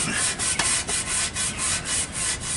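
A Scotch-Brite pad scrubbing the cut edge of a transmission line before soldering a flange, giving a rhythmic back-and-forth rubbing in short, even strokes, close and moderately loud.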